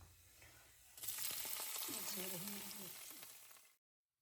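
Cumin seeds, about a small teaspoon, hit hot oil with a sudden loud sizzle that crackles and spits steadily, then cuts off abruptly; a faint voice hums underneath.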